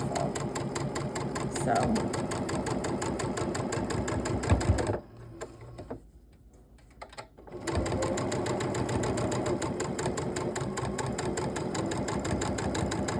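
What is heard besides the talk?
sewing machine stitching raw bias edges together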